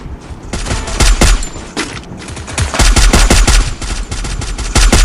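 Rapid automatic gunfire in the Free Fire video game, loud bursts of shots firing close together in a dense, continuous stream with brief gaps, no talking.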